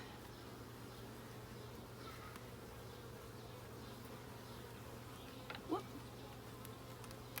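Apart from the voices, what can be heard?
bees buzzing while installing new bees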